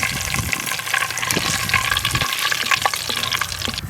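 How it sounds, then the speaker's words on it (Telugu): Cardamom pods, cinnamon stick, cloves and bay leaves sizzle in hot oil in a home kitchen pan for a masala brinjal curry, a steady close crackling hiss with small spattering pops throughout. "నూనె కాగింది యాలక్కాయలు వేస్తున్నాను అలాగే దాచిన చెక్క లవంగాలు కాడ వేసుకుంటున్నాను ఇందులో రెండు బిర్యానీ ఆకులు కూడా వేసుకుంటున్నాను"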